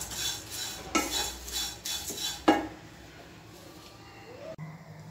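Poha is roasted and stirred in a pan with a few loud metal spoon scrapes and clinks, followed by quieter faint rustling.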